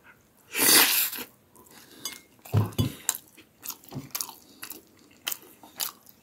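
Crunchy bites and chewing on a gourmet pizza topped with roasted sweet potato, heard close up as a loud first bite followed by softer, irregular mouth sounds with no talking.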